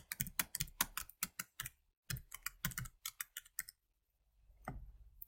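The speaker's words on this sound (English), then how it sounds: "typing in and tabbing over to place my data in is required." Rapid clicking of fingers typing on a computer keyboard and tabbing between fields while entering data into a calculator or spreadsheet, in quick bursts with a brief pause, close and fairly quiet, with no talk.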